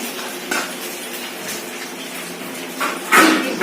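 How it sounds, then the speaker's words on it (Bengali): Fried food, after aubergine and dried fish were cooked, is lifted out of a pan of hot oil with a metal utensil scraping over continuous sizzling, with a louder clatter near the end. "ভাজা হয়ে গেছে আমি তুলে নিচ্ছি"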